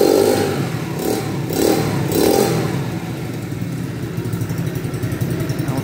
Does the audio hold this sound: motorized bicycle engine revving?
yes